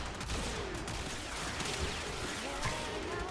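Rapid gunfire from the Hemorrhage secondary weapon in Warframe, dense overlapping shots forming a loud, sustained burst of game combat noise.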